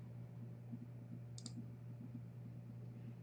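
A single key press on a computer keyboard gives a brief, faint click against a steady low electrical hum.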